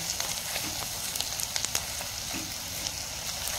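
Onions fry in a kadai over a high flame, producing a loud, dense, steady sizzle with scattered crackles and pops nearby and no talking.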